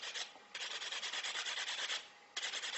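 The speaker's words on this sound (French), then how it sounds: "Vous polissez avec un bloc mousse." Fingernails buffed with a foam block, giving a steady, close rasping rub in long strokes with brief pauses between passes, heard alone.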